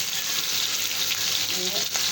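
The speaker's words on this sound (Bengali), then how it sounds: "কাঁঠালগুলো সিদ্ধ হয়ে এই পাশে মাছগুলো ভাজা হবে।" Tilapia fish fry in hot oil in a home kitchen, giving a steady, close sizzle and crackle that runs unbroken for a couple of seconds with no talk over it.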